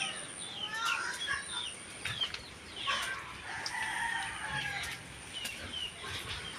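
Chickens cluck softly in short, scattered calls around a quiet farmyard after a typhoon, with the occasional louder squawk rising among them.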